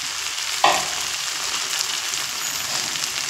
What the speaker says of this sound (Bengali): আবারও 1 থেকে 2 মিনিট মতো একটু নাড়াচাড়া করে নেব